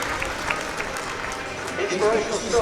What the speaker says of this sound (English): So the captain's going to come down the home straight and receive the applause from what's a very large crowd in at Monmouth